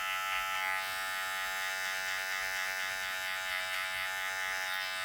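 Electric hair clippers buzz steadily and close up, guard removed with the blade open, a continuous even hum cutting hair during a buzz cut, with no pauses.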